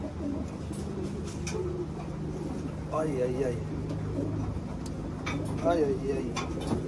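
Racing pigeons coo softly in low, rolling calls while being handled, set against steady background hum, with someone speaking intermittently near the birds.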